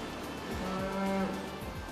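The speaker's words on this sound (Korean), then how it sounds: "석경호 씨는 군산에서 100여 마리의 젖소를 키우고 있습니다" A dairy cow on a farm in Gunsan, South Korea, where about a hundred dairy cows are kept, lets out one long, low moo, clear and fairly close over a quiet barn background.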